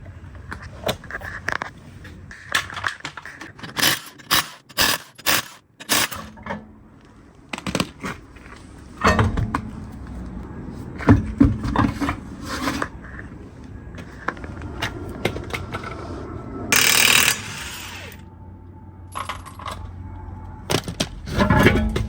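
Tools clank and clatter in bursts while the wheels come off a Volkswagen Transporter 2.0 in a workshop, with sharp metallic knocks, scrapes and a louder rattling stretch near the end, close by and irregular.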